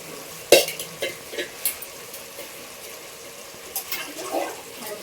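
Spices tempering in hot oil for a chicken curry, giving a sharp crackling burst followed by scattered sizzles and pan clinks, with a voice talking nearby.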